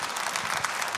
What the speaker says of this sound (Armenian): ես առաջարկում եմ բարձր ծափարենք մեր կանանց Լեյլային եւ Աննային